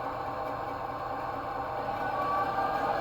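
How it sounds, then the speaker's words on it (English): A USA Trains GP30 Burlington model locomotive running under Zimo control gives off a steady, faint electric motor hum with a whining tone that rises slightly as it moves. "what happens when I start moving the locomotive"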